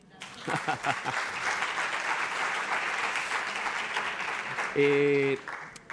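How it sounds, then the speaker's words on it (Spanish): Audience applause at a STEM women's congress fills the room, dense steady clapping at moderate level, with a brief tonal sound near the end. "Un aplauso, ¿no?"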